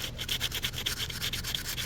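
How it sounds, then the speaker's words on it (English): Sandpaper rubs rhythmically over a knife handle in quick back-and-forth strokes, a steady scratchy rasp repeating several times a second, close and alone. "quite a bit of sanding I'm doing here."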